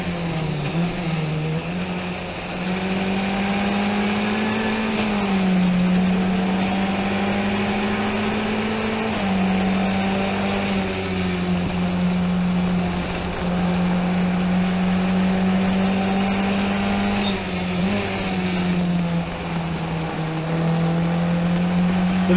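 An F1600 race car engine drones loud and close through a 2018 race. The steady, high-revving tone rises and dips slightly with shifts and corners, with no voices over it.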